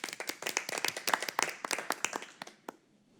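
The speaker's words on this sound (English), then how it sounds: "Let's give her a round of applause." A small group at a school board meeting claps in a brisk, uneven patter of distinct hand claps, close and fairly loud, thinning out and stopping near the end.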